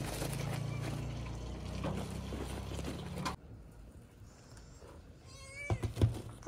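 Several male cats meow near the end, after a steady background rush cuts off. The meows are short, moderately close calls, joined by a few small knocks.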